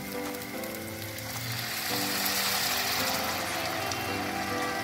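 Vinegar splashed into a pan of frying onions, a loud, close, continuous hiss and sizzle that swells a little partway through and keeps crackling steadily.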